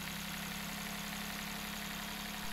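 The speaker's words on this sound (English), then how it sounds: "Look at that, sound was changed and engine is shaking because of this coil is contributing to the combustion." Daihatsu engine idling with one ignition coil pulled, a continuous misfiring hum with an uneven, shaky low thrum at steady level and no talk.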